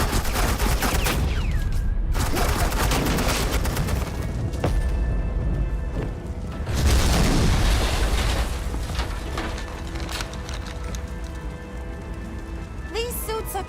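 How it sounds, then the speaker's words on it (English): Suppressing gunfire in a Batman video game, a dense, continuous rattle of rapid shots with a few heavier bursts, loud throughout with voices faintly underneath. "suppressing fire."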